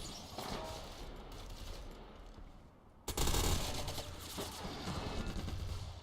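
Gunfire in the online shooter Ghost Recon Online, with dense automatic bursts and rapid shots continuing throughout and a sharp jump in intensity about halfway through.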